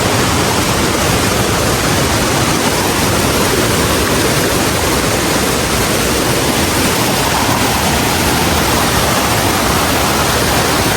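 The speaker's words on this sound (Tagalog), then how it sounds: "Kaparkan Falls." Kaparkan Falls in the Philippines pours with a loud, constant rushing roar of water, steady and close, with no voices.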